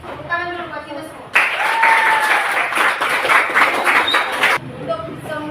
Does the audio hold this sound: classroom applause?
yes